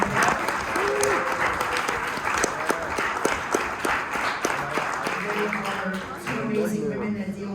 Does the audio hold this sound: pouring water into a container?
no